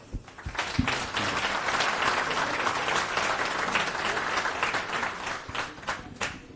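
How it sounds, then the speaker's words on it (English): A conference audience bursts into applause for a speaker on web internationalization, starting with a few separate claps and swelling into steady, moderately loud clapping that tapers off near the end. "And a uh, big round of applause for Ujjwal."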